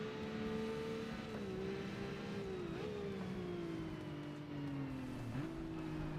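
A race car with an inline-six engine in Forza Motorsport revving hard, its droning engine note climbing steadily and dropping sharply at three gear shifts, fairly quiet and steady throughout with no one talking.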